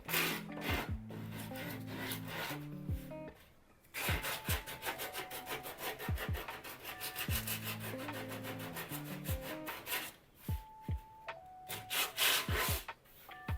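Close, rhythmic rasping strokes of sandpaper rubbing back and forth across a chipboard edge, with short pauses between bursts, no voices.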